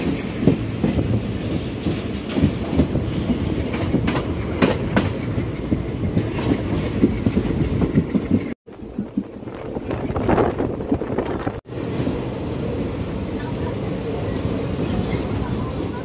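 A passenger train on the Suratgarh–Sri Ganganagar line rumbles steadily as it nears Sri Ganganagar railway station, loud and continuous with wind buffeting the microphone and two brief dropouts midway.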